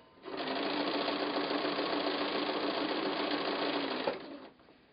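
A sewing machine stitches steadily for about four seconds, thread painting a fox art quilt. The motor hums close and even with a fast rhythmic needle chatter, then winds down to a stop.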